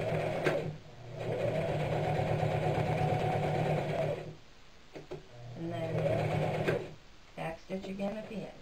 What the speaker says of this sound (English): now I'm going to sew across this corner from here to here.